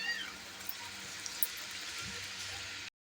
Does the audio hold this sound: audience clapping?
no